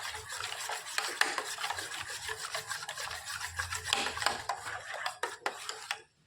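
Powdered milk being stirred into liquid milk for a quick coffee drink, a steady rasping, scraping rub of a spoon in a cup or pot, continuous and close, with dense rhythmic strokes running throughout and no talking.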